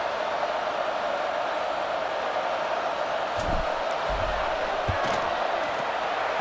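Stadium crowd noise from the video game College Football 26 as a field goal unit lines up, a steady broad roar with a few brief thumps and swells near the middle.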